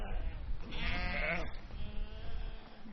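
A sheep bleats once in a loud, wavering cry on a mountain trek, the call near and clear, followed by faint rustling and quieter background.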